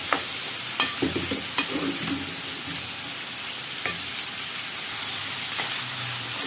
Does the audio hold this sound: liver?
yes